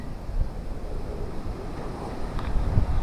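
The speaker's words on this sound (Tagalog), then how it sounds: "humuhugong yung hangin dito" Steady wind from Typhoon Kristine roars and buffets the microphone with a low, rumbling gusty rush throughout, swelling slightly near the end; no voices.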